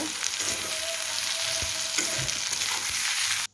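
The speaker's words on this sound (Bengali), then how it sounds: "আমার পেঁয়াজটা কিন্তু লাল হয়ে আসছে" Onions browning in a hot pan give a continuous close sizzle with a few faint stirring clicks, ending abruptly.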